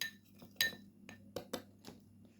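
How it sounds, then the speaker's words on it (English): Dry coffee grounds and salt mixed in a small dish, a spoon clinking and tapping against the container in a few sharp, irregular strikes, quiet and close with soft scraping between. "mix the dry ingredients together like so"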